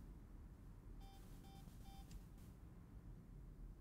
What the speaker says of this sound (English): I heard a beep